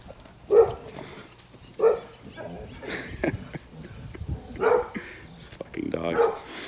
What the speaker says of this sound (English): these fucking dogs.